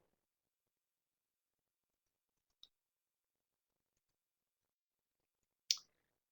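A computer mouse clicks twice, quiet and isolated, while a library database search is set up, with near silence between the two short taps.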